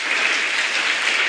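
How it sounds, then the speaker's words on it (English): An audience at a scholarship speech event breaks into dense, steady applause, many hands clapping loudly and continuously with no speech over it. "Please clap for Family Bank Foundation."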